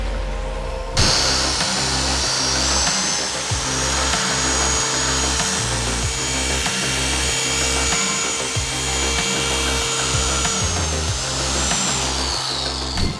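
A polishing machine buffs car clear coat with a short-fiber UDOS pad, giving a steady loud motor whir with a rhythmic pulsing drone throughout and no talking.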